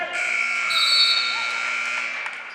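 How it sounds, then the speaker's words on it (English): A loud electronic buzzer sounds at a high school girls' basketball game, one sustained harsh tone lasting a couple of seconds over faint gym noise. "That buzzer should have sat in as soon as she touched the ball"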